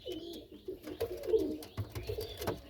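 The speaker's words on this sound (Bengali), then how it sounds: "এই দেখেন দুটো পায়রা দেখেন কি জিনিস দেখেন ভাই" A pair of pigeons coo close at hand in low, rolling, repeated phrases, with a continuous throaty murmur and no voices.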